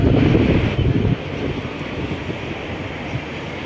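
Strong wind in Dubai buffets the microphone, loud rumbling gusts at first that ease into a steadier, softer roar with no voices.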